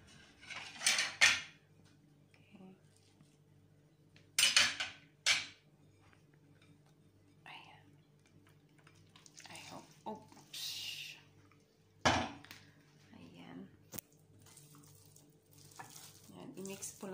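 Mincemeat is mixed in a pan for cabbage rolls in bursts of scraping and clinking utensil strokes, separated by quieter stretches with a faint background hum.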